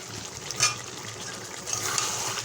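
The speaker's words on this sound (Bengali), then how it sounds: "ভেজে রাখা আলু এবার ভালো করে কষাতে হবে।" Pre-fried potatoes are stirred with chicken kosha in a pan, giving a close, steady sizzle with scraping and stirring strokes that swell briefly a couple of times.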